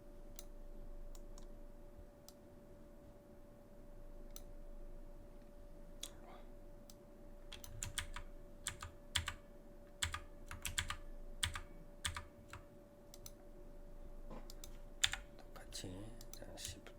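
Computer keyboard keys tapped while working in Blender, scattered quick clicks that cluster into a denser burst midway, fairly close and light over a steady background hum.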